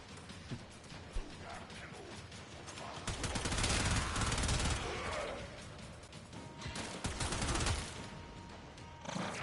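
Turrets firing in the video game Warframe: a dense, continuous clatter of rapid automatic gunfire with mechanical clanks, swelling into louder sustained bursts midway and again near the end.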